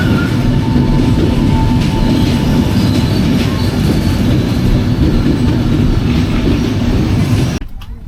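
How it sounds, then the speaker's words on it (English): A Frecciargento high-speed train pulls into a station platform, a loud, steady rumble of rolling wagons and wheels close by that fills the scene, then cuts off abruptly near the end. "My cool, slightly dated looking high-speed train pulls into the platform, a Freccio Argento."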